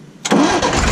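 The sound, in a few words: old Ashok Leyland truck 401 engine starting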